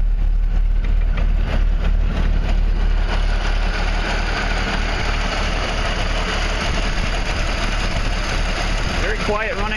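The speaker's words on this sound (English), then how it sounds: "Very quiet running engine, very smooth." A 1920 Nash 685 engine idles smoothly and quietly in cold weather with a steady low rumble, accompanied by faint mechanical ticking.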